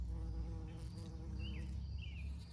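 Faint, close buzzing of a bee with pollen on its legs working around a planter, a low droning hum with brief pitch swoops as it shifts, set against quiet outdoor background.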